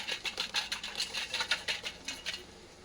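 A captured bat scrabbles and flutters inside a container, a faint rapid run of light scratchy taps and rustles in quick bursts, with no voices.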